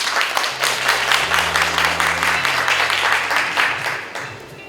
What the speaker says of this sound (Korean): 여러분들께서는 큰 박수로 맞아 주시기 바랍니다